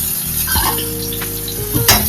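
Food sautéing in a pan for a home-cooked South Indian vegetarian meal, a continuous close sizzle with a low hum, light stirring and a metallic clink near the end.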